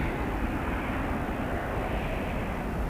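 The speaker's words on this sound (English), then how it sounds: "Like a regular 777 departure." Boeing 777 departing Toronto Pearson, a dense continuous jet-engine roar, loud and sustained with no breaks, and no voices.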